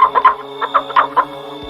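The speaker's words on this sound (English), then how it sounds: "Cluck, cluck, cluck." Short, punchy hen clucks come in a brisk series of about six calls, near and distinct, layered over a held background tone.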